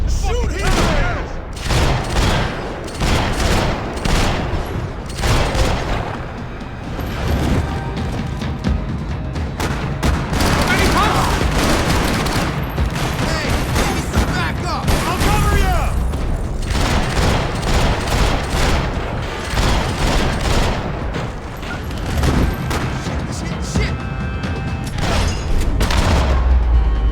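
Sustained shootout gunfire from the Max Payne 3 video game: dense bursts of automatic fire and heavy booms, loud and nearly continuous throughout, with voices shouting briefly amid the shooting.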